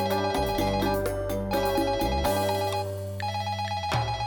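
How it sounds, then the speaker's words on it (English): An office desk telephone rings repeatedly and goes unanswered, loud electronic ring bursts in a regular pattern with no voices. "Why is the office phone ringing and no one is answering?"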